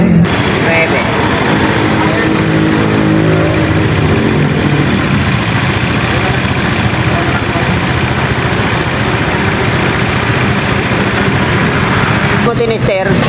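Yamaha Mio motorcycle engine running steadily at idle after being started, a close, continuous buzzing drone that holds throughout before a brief clatter near the end, with some talk mixed in.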